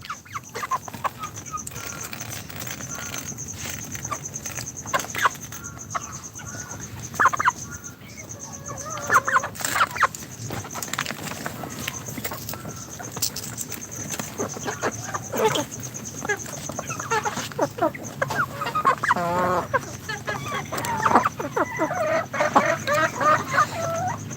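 Pakistani breed chickens on a farm cluck and call steadily throughout, a busy flock nearby with overlapping clucks and occasional louder squawks against constant background noise.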